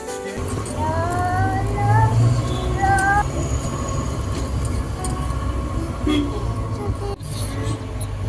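A Darjeeling toy train rolls past with a continuous low rumble and rattle of wagons, steady and fairly near, while voices chatter over it.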